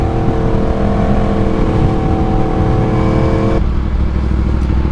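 A 1000cc Yamaha sport motorcycle accelerates hard with a quick shift, its engine a loud, close, steady rising drone that cuts off abruptly near the end as the gear changes.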